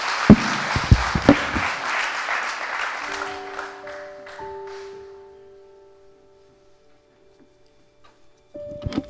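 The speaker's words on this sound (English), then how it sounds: "Give a round of applause." A seminar audience breaks into applause at a motivational talk. The clapping is dense and lively for a few seconds, with a few sharp louder claps, then thins out and fades, leaving some steady tones and near quiet.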